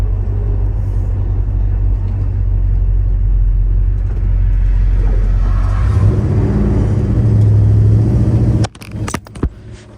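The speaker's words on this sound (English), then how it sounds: "This car goes through the gears nicely." A 1972 Chevrolet Chevelle Heavy Chevy engine holds a loud, deep rumble, then swells and climbs as the car accelerates, before cutting off abruptly into a few sharp rattles and knocks.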